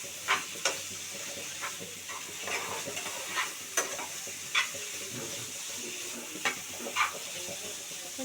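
Chicken liver and onion frying in a pan, a steady close sizzle broken by a few sharp spits and pops, with no voices.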